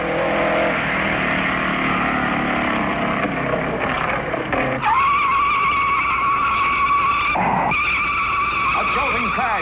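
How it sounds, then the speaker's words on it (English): A race car skids loudly at the 1956 Indianapolis 500, a long tire squeal sweeping over roaring engine noise, then a crash and more engines passing close by. "Crash and Jimmy Daywalt skids to a stop."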